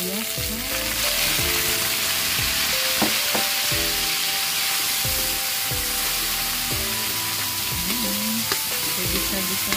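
Garlic and onion fry in a pan of hot oil, a dense, continuous loud sizzle with occasional stirring clinks and tonal squeaks, heard up close without speech.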